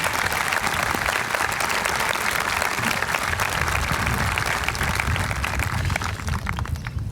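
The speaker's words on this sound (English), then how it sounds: "Let's give this class one great round of applause for all of those accomplishments and contributing." An audience at a 2013 high school graduation ceremony gives the senior class a dense, sustained round of clapping that runs the full length, steady and crowd-wide, with no voices standing out.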